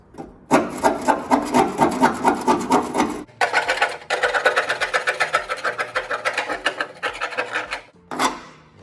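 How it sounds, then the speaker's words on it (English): A scraper rasps heavy deposits off the body of a Chrysler Valiant in rapid, rhythmic strokes, loud and close, stopping briefly a couple of times before carrying on, with no voices. "So I just got a scraper and scrape the heavy turds off."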